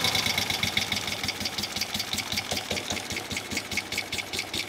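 A 1971 Moto Guzzi Ambo motorcycle engine runs at idle after a tune-up, one cylinder running poorly, giving an uneven, sputtering putter with a steady rapid beat, fairly faint and alone.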